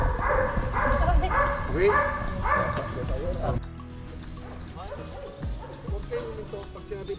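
A K9 dog yips and whimpers in several quick bursts, then quieter scattered sounds follow as people talk nearby.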